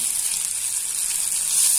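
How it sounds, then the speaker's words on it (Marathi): Continuous hissing sizzle of hot oil tempering in a pan, steady and close, with no voices. "याला फोडणीत घालून द्यायचं."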